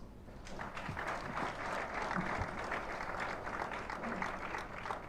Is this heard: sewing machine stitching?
no